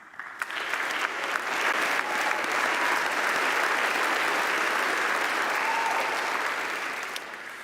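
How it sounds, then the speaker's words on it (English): A graduation audience gives a sustained round of applause for parents and faculty, loud dense clapping rising quickly and holding steady for several seconds before tapering slightly, with no speech over it. "let us join together in giving a round of applause to honor our remarkable parents and dedicated faculty"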